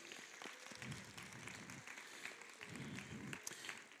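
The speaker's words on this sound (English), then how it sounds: "Please give them a round of applause." Applause from the audience at a school concert, a soft, distant patter of many hands clapping steadily with slight swells in intensity.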